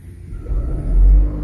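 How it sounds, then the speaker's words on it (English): Low engine rumble from a 3rd-generation Toyota Prius hybrid as the gasoline engine starts up under the accelerator, swelling in two deep surges, close and without talk. "As you see, you can see the engine kick in."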